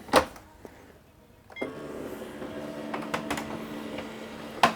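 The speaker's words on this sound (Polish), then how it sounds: "zobaczmy teraz ksero tego, co wydrukowała ta drukarka" An office machine whirs and hums as a copier runs, with mechanical clicks and a couple of sharp clunks at the start and end.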